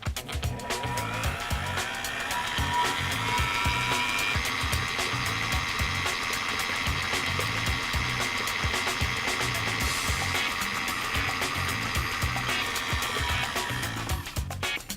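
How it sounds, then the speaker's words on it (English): Stand mixer with a paddle attachment running while smoking butter, a steady motor whine with a rhythmic churning pulse, close and continuous, with no voices. "Another way to smoke foods using the stand mixer is to use the paddle attachment."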